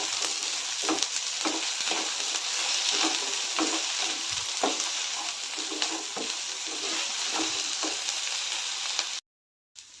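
Okra and onion fry in oil with a constant crackling sizzle, while a spatula scrapes and stirs in a regular rhythm close by. Near the end the sound cuts to a brief silence.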